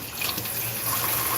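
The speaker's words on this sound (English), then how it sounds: "So I like to rinse the noodles of the starch, of course." Tap water running steadily into a sink while cooked spaghetti noodles are rinsed of starch, a continuous close splashing hiss with no talk.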